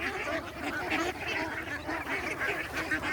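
A flock of ducks, fed a mix of weeds, water spinach, corn and rice bran, make a steady close clamour of quacks and honks with busy feeding noise, continuous and fairly loud throughout.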